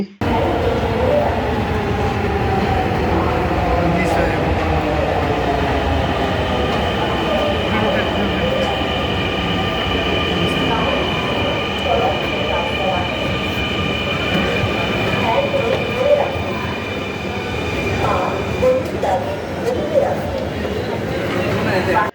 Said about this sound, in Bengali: সিঁড়ি দিয়ে উঠে দেখি ট্রেন অলরেডি এসে গেছে, এবং অনেক মানুষ এখানে ট্রেন থেকে উঠতেছে এবং নামতাছে